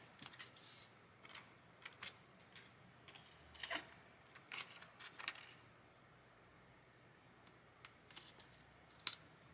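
Cricut transfer tape being peeled off weeded vinyl gives faint, scattered crackles and short tearing ticks in an otherwise quiet room, with uneven pauses between the little bursts.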